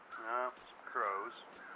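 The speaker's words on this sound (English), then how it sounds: "Some crows." Crows cawing in The Long Dark, two harsh drawn-out caws followed by a fainter third call, moderately distant and alone.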